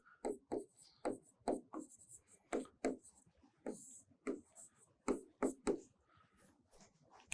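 Pen writing quickly on paper, a close series of distinct scratchy strokes in irregular bursts, each stroke sharp and brief, with quiet pauses between.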